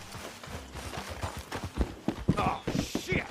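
Horses in the video game Red Dead Redemption 2 clop along with hooves beating in an uneven rhythm, growing louder and more scattered toward the end with no voices.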